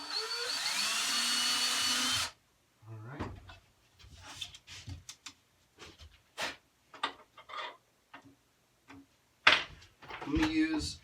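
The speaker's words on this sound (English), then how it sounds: "So I'm drilling 2 pilot holes here." A power drill drilling pilot holes for a DIY river spyglass for gold prospecting, a loud steady whine for about two seconds, then quieter scattered handling knocks and clicks, with a short final burst of the drill near the end.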